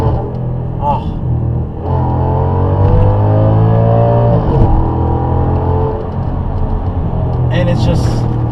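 Audi S6 with a 5.2-liter V10 shared with the Gallardo, heard from inside while driving: a steady, loud engine drone with rising and falling harmonics as it pulls, with speech over it.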